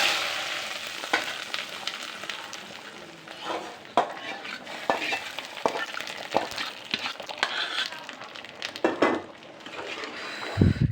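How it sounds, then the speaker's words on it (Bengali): Hot tempering (baghar) is poured into dal in a saucepan, crackling and sizzling loudly while a spoon stirs and clinks against the metal in irregular knocks. "এখন বাগার দিয়ে দিব।"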